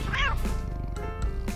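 A cartoon cat meows in a short, rising-and-falling cry near the start, clear and fairly loud over a busy background of other sound.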